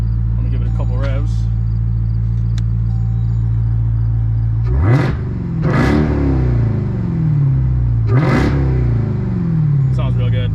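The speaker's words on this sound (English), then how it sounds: "Let me give it a couple revs." A Dodge Durango Hellcat's supercharged engine idles with a deep, loud rumble, then is revved sharply three times, each rev rising and falling with a whining supercharger sweep; the exhaust has no mid muffler.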